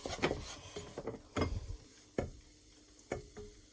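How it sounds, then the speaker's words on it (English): Intermittent wooden scrapes and clicks of a spoon stirring sauce in a pan, coming in several separate strokes at an uneven pace, close and fairly quiet. "And keep stirring, otherwise it'll curdle."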